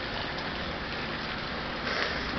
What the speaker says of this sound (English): It's just basically raining.